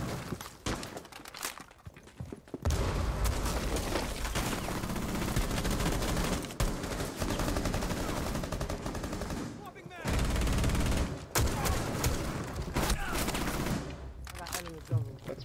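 Shooter video game gunfire, dense sustained bursts of rapid automatic shots with cracks and breaking sounds, interrupted by brief pauses, with a voice talking between volleys.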